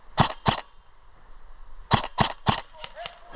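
Airsoft guns firing at an outdoor range during a game, sharp cracking shots in two clusters, a pair followed after a pause by a quick run of five or so, loud and close.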